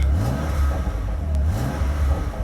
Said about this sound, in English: You can hear that fruitier exhaust on the M2 competition.